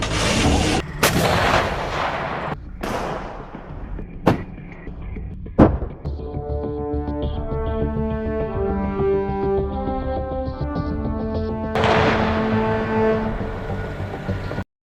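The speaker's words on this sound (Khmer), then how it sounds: "កាំភ្លើងធំស្វ័យប្រវត្តិ M109A7 SPH Paladin" A US Army M109A7 Paladin self-propelled howitzer fires in testing, giving four sharp, booming blasts in quick succession, followed by a long sustained tonal rumble that swells again near the end.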